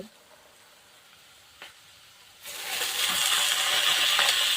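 Wild killuchi leaves dropped into a hot pan of spiced oil for a monsoon forest-greens dish, with a sudden loud sizzle that stays steady and bright after a few quiet clinks.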